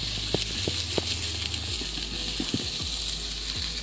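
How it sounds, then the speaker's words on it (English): Oil sizzling in a pan as ginger, onion, green onion and garlic are sautéed, a steady bright frying hiss with occasional soft pops and clinks throughout. "Saute that up. I got a ginger, some regular onion, green onion, and some garlic."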